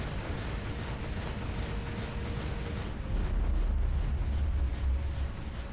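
Torpedoes fire and detonate in the space warship game Dreadnought, a dense continuous roar of blasts and rumbling explosions that swells louder and deeper toward the end, no voices heard.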